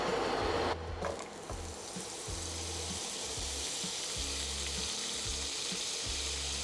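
Butter melting in a hot pan gives a steady, close sizzle and crackle that runs throughout, with low rhythmic thumps beneath it and no talking.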